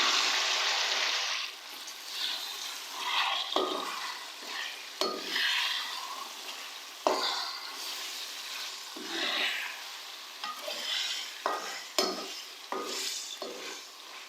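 Chicken pulao base cooking in a pot with tamarind water just added, stirred with a spoon: steady sizzling and bubbling with repeated scraping strokes and clinks against the pot, close and continuous throughout.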